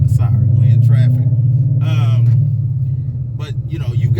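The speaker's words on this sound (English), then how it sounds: "Sorry, we're in traffic." A Mustang rolling through traffic, its engine giving a low steady rumble inside the cabin while someone talks over it in short bursts.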